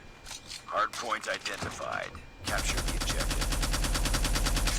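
Rapid automatic gunfire from a DR-H rifle in the mobile shooter game Call of Duty Mobile, a dense steady burst that fills the latter half, preceded by scattered game sounds and someone talking.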